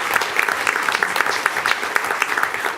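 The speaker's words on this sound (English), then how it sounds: "So give Jacob a round of applause." Audience applauding a state champion high jumper and sprinter at a school board meeting, brisk close clapping with sharp individual claps throughout the short burst.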